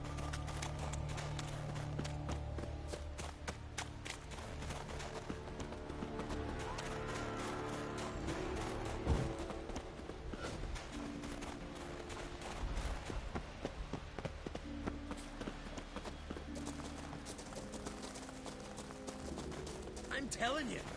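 Horse hooves gallop in The Witcher 3, a continuous rhythmic clatter running through busy game music and effects, with voices talking over it.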